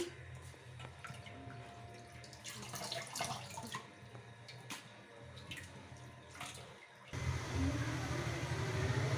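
Water splashes and drips in a sink as prawns are washed, with intermittent rinsing sounds, then a tap runs steadily and louder for the last couple of seconds.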